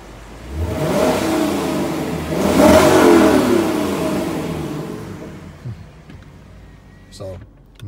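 Lexus LC 500 V8 revving, heard through an open window, swelling loudly twice before fading to a quiet idle, with some talk in the background.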